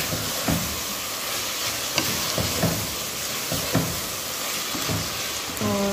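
Garlic fries in a pan with a loud, dense, hissing sizzle that runs steadily throughout, with occasional soft stirring taps.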